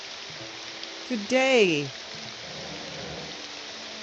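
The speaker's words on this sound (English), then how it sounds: "It's still raining though." Steady rain hisses throughout in the game Morrowind, an even wash of falling water, while a voice briefly speaks over it near the middle.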